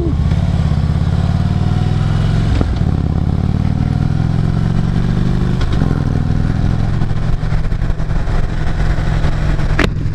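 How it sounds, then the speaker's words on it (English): A 2015 Harley-Davidson Dyna Switchback, about 1690 cc, rumbles loudly and steadily while being ridden, its deep engine note with a few brief clanks over the run. "Got the new bike. It is a 2015 Dyna Switchback."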